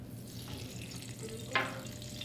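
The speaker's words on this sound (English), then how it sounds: "Same pans, I'm gonna add cooking oil." Cooking oil added to a pan sizzles softly in the background of a kitchen, with a brief brighter splash of frying partway through.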